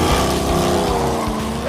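A '68 Dodge Charger called the General Mayhem roars loudly and close by, its engine note rumbling with a slight shift in pitch as it passes.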